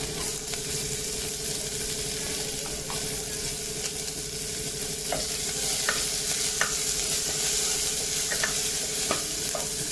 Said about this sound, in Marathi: असं हिरव्या मिरच्या टाकते त्याच्यात.